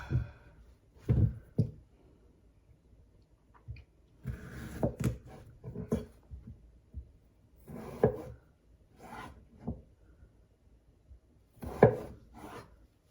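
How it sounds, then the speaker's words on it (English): Knife slicing cucumbers with the skin on into bite-sized pieces on a board, soft irregular cuts and rasping strokes in scattered bursts, fairly quiet and close, no talking. "We are now going to cut our cucumbers into bite-sized pieces"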